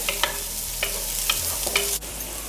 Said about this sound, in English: Now I'll cook the bhaji, and I'm cooking chawai bhaji, which I picked from my backyard, and it is frozen.